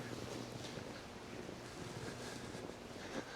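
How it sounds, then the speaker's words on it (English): A steady, broad rush of water somewhere down in a big pit beside a snowy canal towpath near abandoned train buildings, continuous and fairly faint, with no talking. "Sounds like there's water down there"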